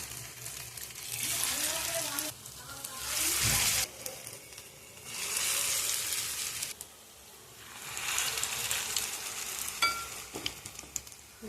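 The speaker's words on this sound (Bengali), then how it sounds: "দেখুন তেল আমার গরম হয়ে গেছে, তো আমি বড়াগুলো এক এক করে ওর মধ্যে দিয়ে দিচ্ছি।" Bottle gourd leaf fritters dropped one by one into hot oil, each addition bringing a fresh burst of sizzling and bubbling that rises and fades, with a voice speaking between the frying sounds.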